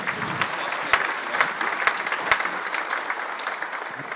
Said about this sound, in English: Okay, so polite applause for you then?